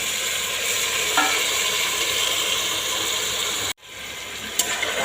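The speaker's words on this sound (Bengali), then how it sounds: "তেলের মধ্যে ছাড়ি দিয়া সব মাংস ছাড়ি দিলাম এখন একটু নাড়াচড়া করব" Meat marinated with potatoes fries in hot oil, a steady close sizzle with occasional scraping clicks from stirring, briefly dropping out near the end before the frying hiss returns.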